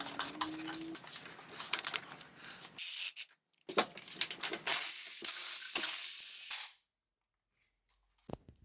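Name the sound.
removing spark plugs from Porsche 928 engine with ratchet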